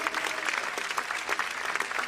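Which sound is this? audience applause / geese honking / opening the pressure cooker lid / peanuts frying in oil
audience applause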